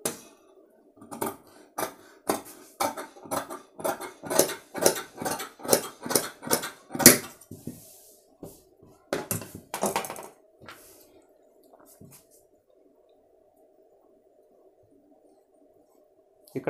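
Tailor's scissors cutting dhoti cloth with a quick, even run of about fifteen crisp snips, close and fairly loud, then a few looser cuts before the sound fades to near silence.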